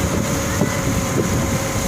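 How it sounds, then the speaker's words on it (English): A steady, low boat engine drone runs throughout, heard from on board on a river between Azhikkal and Mattul, mixed with wind buffeting and a constant broadband hiss. "Hope you are able to hear the sound of the engine of the boat."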